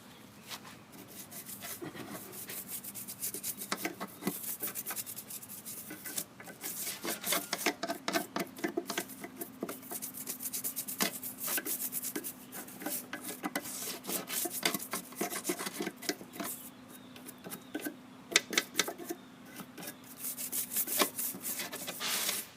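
A small toothbrush scrubs a used lawn mower's front wheel assembly in continuous rapid rasping strokes, steady and close, with brief pauses and no talk.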